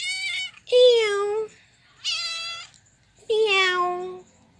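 Domestic cat meowing loudly and close by, with three long drawn-out meows separated by short pauses. No talk is heard over the calls.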